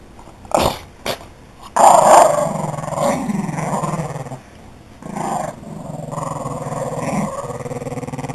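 A dog growls and barks while guarding its blanket bed, a few sharp barks up close followed by long, rumbling growls that rise and fall, loud and alone without talking.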